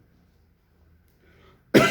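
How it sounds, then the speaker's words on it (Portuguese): A single sharp cough bursts out at the very end after near silence. "Hoje eu estou com uma tosse estranha."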